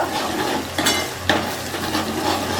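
Onion and garlic paste fries in oil in a pan with a continuous hissing sizzle and two sharp stirring scrapes against the pan, heard close up.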